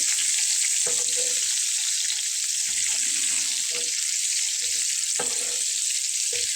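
An egg dish fries in oil over lowered heat, giving a continuous bright hiss of sizzling with a few soft knocks and stirring clatters scattered through it, close by and without speech.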